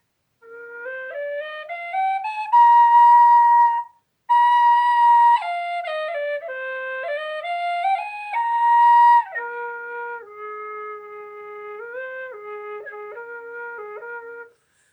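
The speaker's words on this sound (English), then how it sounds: "A tin whistle for playing bagpipe tunes." A tin whistle played as a practice chanter carries a bagpipe tune, clear bright melodic notes with ornamented steps, loud and close, one short pause near four seconds, no voices.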